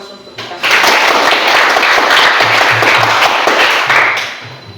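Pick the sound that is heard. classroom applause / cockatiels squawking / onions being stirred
classroom applause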